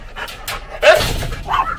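A dog pants steadily up close, with a few soft barks or yelps breaking through, at a spot where an abandoned Pomeranian and a Ca de Bou were found.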